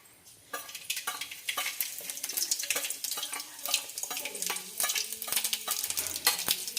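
Green chilies with cumin and mustard seed tempering frying in hot oil in a home kitchen, a close, busy crackling sizzle with repeated scraping stirs and small pops throughout.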